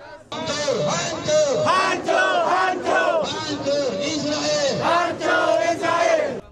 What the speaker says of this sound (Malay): Laungan bebas Palestin dan hancur Israel bergema sepanjang perjalanan